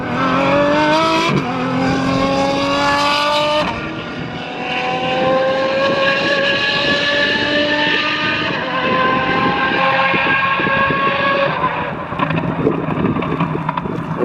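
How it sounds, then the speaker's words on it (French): Apollo IE hypercar with a V12 roaring hard down an airport runway, loud and close, its engine pitch climbing through several gear changes over a sustained full-throttle run. "La Apollo IE, s'il accélère bien, ça va faire un gros bruit."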